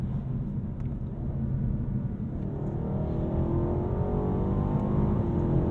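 A 2022 Alpina B8 Gran Coupe accelerating hard at speed, its engine roaring steadily and climbing in pitch inside the cabin, loud and continuous with no talking.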